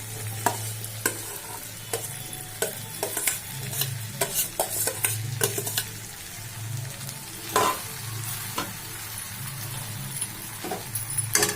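Cooked rice is stirred and fried in a pan for veg fried rice, with a soft continuous sizzle under repeated scraping and tapping strokes of a spoon against the metal, close and fairly quiet.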